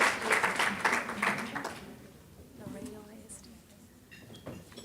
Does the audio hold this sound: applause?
yes